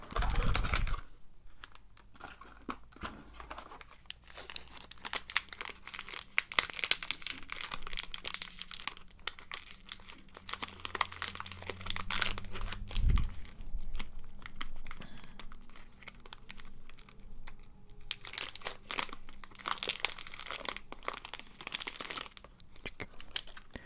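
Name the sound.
opening a crinkly freshness sachet of tartlets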